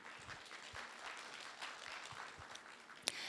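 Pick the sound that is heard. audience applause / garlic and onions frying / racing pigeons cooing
audience applause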